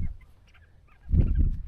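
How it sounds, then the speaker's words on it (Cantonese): A bird native to Taiwan's high mountains, heard at Hehuan East Peak at 3421 m, gives a brief low honking, goose-like call, first faintly at the start and then louder and closer for about half a second. "台灣嘅高山雀咩金咩我唔記得，好出名㗎。"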